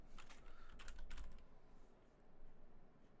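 A search being typed on a computer keyboard in Chrome, a short run of quick key clicks near the start, fairly faint over steady room noise, then quiet with no talking.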